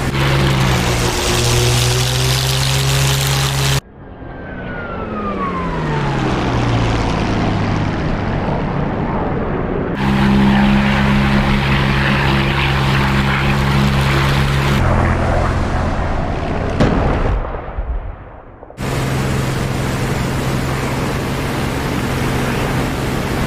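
Piston engine of a WWII fighter plane in the DCS World flight simulator during a 1942 Stalingrad campaign, a loud steady drone with shifting tone and several abrupt cuts between engine passages, including a falling whine.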